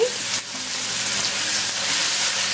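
Ginger and garlic sizzle steadily in hot salted oil over a medium flame, a continuous, close frying hiss with no voices.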